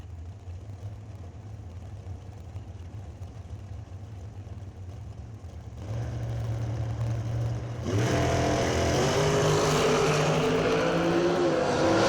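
Drag racing cars at the Numidia 150 rumble at idle on the starting line, then launch with a sudden, much louder roar that holds steady as they charge down the track.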